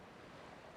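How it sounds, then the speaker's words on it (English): Steady wind and rolling surf around a lighthouse on a rugged coast in the video game Dear Esther, a continuous broad wash of ocean and gusting air with no distinct breaks. "Oh, it's getting windy."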